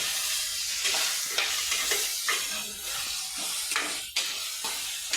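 Vegetables for dal rice sizzle steadily in a pan while a spoon stirs them, with repeated scraping strokes standing out over the continuous frying hiss.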